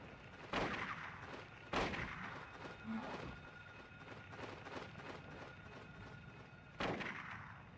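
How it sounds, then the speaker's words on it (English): Rifle shots from the Silent Hill video game ring out three times at irregular intervals, each a sharp loud crack over a steady low rumbling background. "Is that a shotgun or a rifle? It's a rifle."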